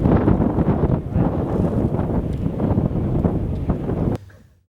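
Strong wind near wind turbines buffets the microphone in loud, gusty bursts with a low rumbling roar, continuing steadily before fading out.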